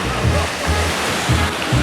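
Ocean waves at Playa Carrizalillo beach in Puerto Escondido, a steady close wash of surf with rhythmic low surges rolling in and out.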